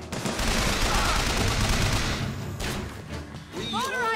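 Gunfire from a heavy-recoil weapon in the video game Bioshock Infinite, a dense loud burst of shots and booms through the first half, fading into rumble, with a voice speaking near the end.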